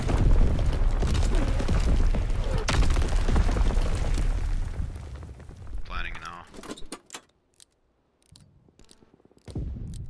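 Mortar artillery strike in Call of Duty: WWII landing as a heavy, loud rumbling explosion with sustained low booming and debris for several seconds, then fading into quieter scattered sounds and a few sharp pops.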